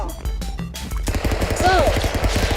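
Video game gunfire from Stick Fight: quick bursts of shots crackle over a busy game soundtrack, loud and close, with a fast, uneven rhythm.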